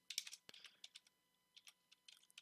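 Code being typed on a computer keyboard, a quick run of close, crisp key clicks in short bursts with small pauses between them, heard alone without any talk.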